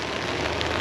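Heavy rain pours down outdoors at Downtown Disney, a constant dense hiss of drops striking the ground and surfaces, evenly loud throughout with no talking.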